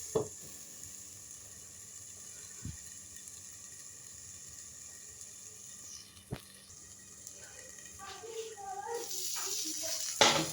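Vegetable-packed pasta cooks covered on a low gas flame, giving a faint, steady hiss and gentle sizzle with a couple of sharp lid or utensil clinks and a brief louder bubbling near the end.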